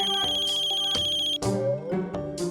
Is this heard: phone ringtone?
yes